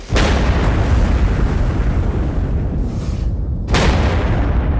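Big firework rocket exploding during a firework show, a loud booming burst with a long rumbling tail, followed by another sharp blast near the end, with no talk.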